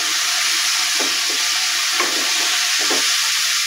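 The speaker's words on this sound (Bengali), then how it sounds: "কচুরলতিগুলো দিয়ে আমি নেড়ে দেব" Washed taro stolons fry loudly in a hot pan with spices, a dense continuous sizzle cut by several soft stirring strokes close by.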